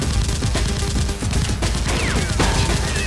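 Nerf guns firing foam darts in an outdoor play battle; a dense, loud burst of rapid pops and clatter over several seconds, with no clear speech.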